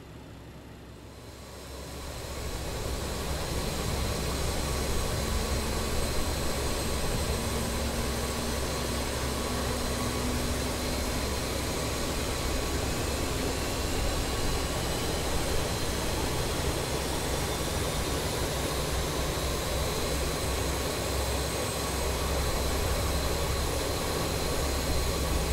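Four BAe 146 jet engines spool up and run in a flight simulator, heard from outside the aircraft: a steady, loud whine and roar with high tonal hum that rises after a couple of seconds and holds throughout.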